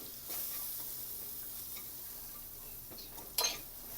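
Spoon stirring and mixing cumin powder and coriander powder into a spice mix for kothimbir vadi, a steady soft scraping with faint sizzling throughout and one sharper clink near the end, no voices.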